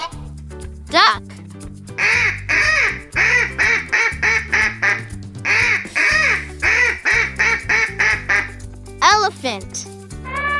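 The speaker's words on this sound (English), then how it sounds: "Duck." A duck quacks in quick, loud runs of nasal quacks, two long bursts of repeated calls near and clear, with brief rising cries at either end, over steady background music.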